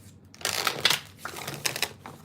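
Tarot cards being shuffled close up indoors, two quick riffling bursts of crisp flapping and slapping with a brief gap between them.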